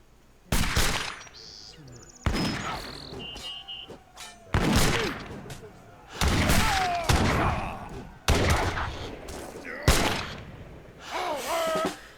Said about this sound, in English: Hussars are going down to the musket fire of the musketeers.